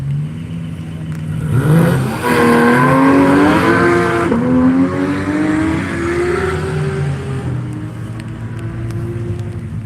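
Race cars on a recon lap at Nelson Ledges roar past close by in quick succession, engines revving up through rising gear pulls with a brief tire squeal, then fading into a lower drone as they move away.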